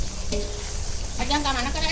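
Noodles fry in a pan for camp catering mie goreng, a close, steady sizzle with brief stirring and a voice talking over it.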